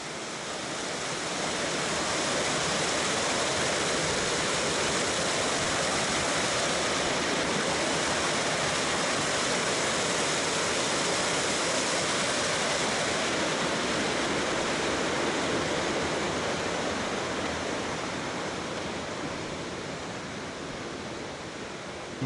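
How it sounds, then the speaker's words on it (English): Glacier Creek on the Colorado Trail rushes beneath a trail bridge, a loud, steady broadband roar of fast-moving water heard close by and alone for the whole stretch, swelling slightly in the middle. "I think this is a Glacier Creek"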